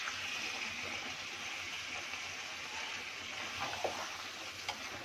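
Masala for mutton rice sizzles and fries in a pan just after a splash of water goes in, a steady bubbling hiss that carries on without a break, with a few small pops near the end.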